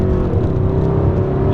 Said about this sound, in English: Gonna go ahead and downshift again here.